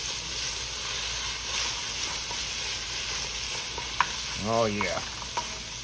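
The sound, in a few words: garlic frying and being stirred in a pot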